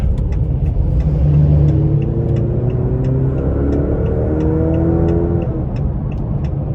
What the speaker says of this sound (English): we're gonna see how the exhaust sounds when I put my foot into it